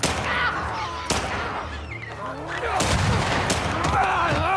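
A shotgun fires in The Last of Us Part II, a few loud, sharp blasts spaced seconds apart amid chaotic game sounds, with an opening boom and later bursts.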